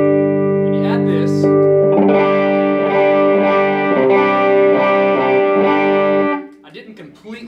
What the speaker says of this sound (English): I added overdrive to it, I added a little bit, but I didn't completely change it.